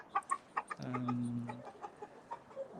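Chickens cluck in a garden: a series of short, close clucks, with one longer drawn-out call in the middle and more scattered clucks after it, no talk.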